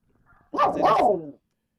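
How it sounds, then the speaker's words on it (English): A dog gives a short, loud burst of barking, one or two close yelping barks run together and then silence, after a faint murmur beforehand. "That was a dog."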